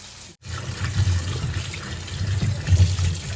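Garden eggs are washed under a running tap in a sink, a close, continuous splashing gush with a brief break near the start, then steady flow with small surges.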